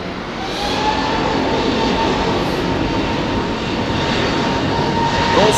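An airliner climbing out of Heathrow at about 1,800 to 2,000 feet, bound for Boston, gives a steady broad jet roar that holds loud and unbroken throughout, with no voices over it.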